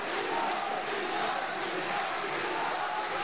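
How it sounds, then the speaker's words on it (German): A fight crowd at an MMA event roars and cheers to urge on a fighter named Milan, a dense, steady wall of voices throughout. "Jetzt peitscht das Publikum Milan nochmal an."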